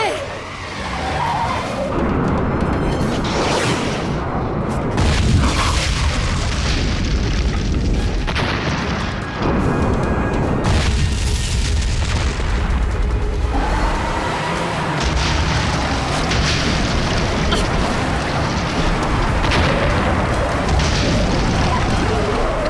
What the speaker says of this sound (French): On dirait que quelque chose a explosé